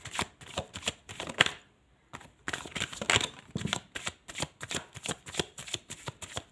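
A deck of tarot cards is shuffled by hand in quick, rhythmic riffles and slaps. The flutters repeat close up with a brief pause partway through.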